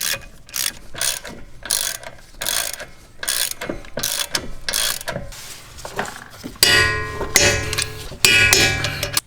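Rapid ratchet clicking in repeated bursts, loud and close, as 18 mm bolts are threaded into a front wheel hub bearing on a 2015-2022 Chevy Colorado; no talking.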